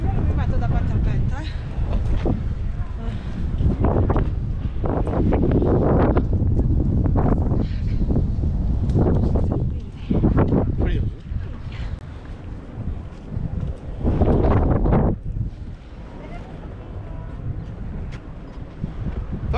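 Strong wind buffets the microphone on a boat trip to the Statue of Liberty in New York, loud rumbling gusts coming and going, with people talking intermittently beneath.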